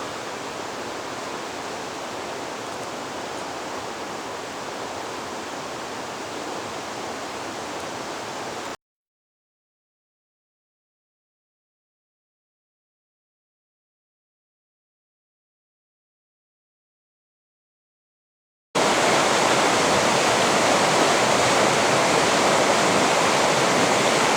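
Rushing water of the Cross River in Minnesota, a steady, loud broadband roar of a fast-moving river that drops out completely for about ten seconds in the middle, then returns slightly louder.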